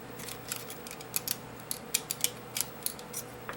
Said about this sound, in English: Let's see if the clamp will fit on there.